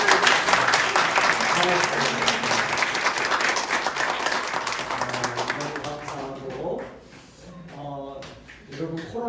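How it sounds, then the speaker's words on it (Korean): Church congregation applauding at a worship gathering, a dense sustained clapping that fills most of the clip and then thins out, while someone speaks over it. "우리 박수 한번 해주세요"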